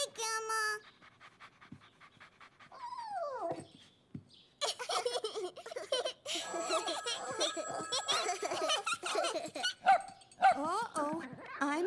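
An excited puppy in a cartoon home scene barks, yips and pants in quick bursts through most of the passage, close and fairly loud, mixed with children's and adults' voices talking over it.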